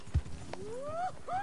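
Hoofbeats of a small Breton horse in Red Dead Online, a few soft low thuds with a heavier one early on, beneath rising tonal sweeps from the game's sound, with no speech.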